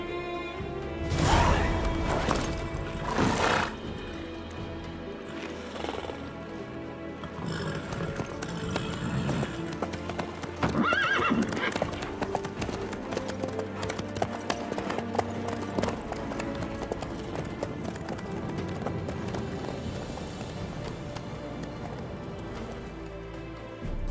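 Horse hooves clip-clopping in The Witcher 3 video game, a continuous rhythmic trot under game music and effects, with a few louder hits near the start.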